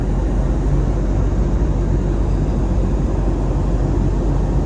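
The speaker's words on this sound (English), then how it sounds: "The plane is flying smoothly" Steady, loud broadband roar of an Airbus A321neo cabin in cruise on a Philippine Airlines flight from Manila to Fukuoka, a continuous engine and airflow drone with no talk.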